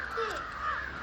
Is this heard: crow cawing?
yes